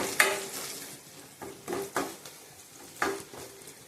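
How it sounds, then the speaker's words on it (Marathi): Spoonfuls of ghati masala and turmeric roast in hot oil for black urad dal, a soft background sizzle broken by several distinct scraping stirs of a spoon in the pan, close and quiet, no voices. "चांगला आपण भाजून घ्यायचा आहे तेलात।"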